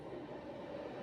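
A Delhi metro train arrives at a station, a brief steady rumble of rail cars on track, moderately distant and without speech.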